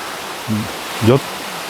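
A waterfall in a Thai national park pours with a steady, full rushing wash, and two brief vocal sounds rise over it.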